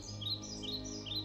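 Birds chirping in a dense forest as a story sound effect, soft repeated high calls over a steady low background hum.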